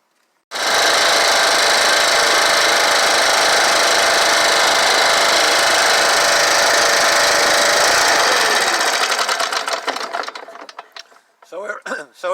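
A Stihl BR550 backpack blower engine roars loudly and steadily, close up, for about eight seconds, then loses power, sputters and dies away in uneven bursts.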